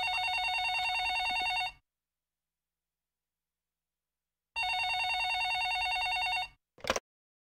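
An office telephone rings in two long electronic bursts separated by a pause, followed by a brief clack as the handset is picked up.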